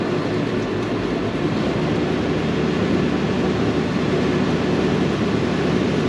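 A tractor's power shaft drives a slurry vacuum tanker, giving a steady, loud, broadband mechanical roar and whine that holds unchanged throughout.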